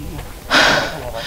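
Heavy, laboured breathing while climbing toward the crater of the Kawah Ijen volcano, heard as one sharp, close gasping inhale that trails off over steady background noise.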